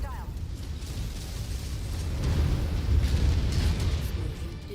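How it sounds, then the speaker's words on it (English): Ammo explodes inside a mech in MechWarrior 5 with a deep, sustained rumbling blast that swells midway and holds loud over steady battle noise. "Ammo explosion. That doesn't sound very good."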